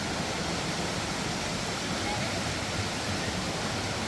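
Steady broadband rush of water flowing through a stream near a hidden waterfall on a hike in Oahu, Hawaii, continuous and even with no talk over it.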